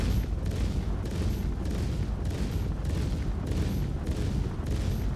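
Ship-mounted Deadbolt ballistic cannons firing in a Star Citizen weapons test, a loud, dense, continuous barrage of heavy booming shots with regular pulsing bursts, no voices over it.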